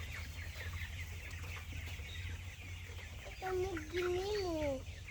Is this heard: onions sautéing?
no